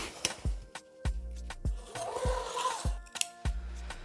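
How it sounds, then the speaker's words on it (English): Scissors snip through a plastic bag again and again, several sharp, fairly close cuts falling in an uneven rhythm with a soft rustle of the bag between them. No one speaks. "We cut it in the middle."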